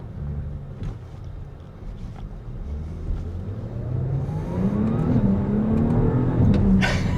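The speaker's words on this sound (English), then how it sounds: "You can actually hear a little bit of the burble coming from the rear exhaust." A 2025 Audi S5 engine rumbles low and steady, building gradually as it revs, with a deep burbling rear exhaust tone under faint road noise.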